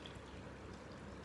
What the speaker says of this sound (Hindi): सबसे पहले हमें कंटेनर में पानी डालना है